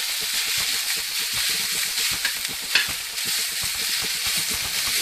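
Minced garlic and asparagus tips fry in a pan with a steady, close sizzle and crackle, a few sharper pops and stirring scrapes rising over the constant hiss.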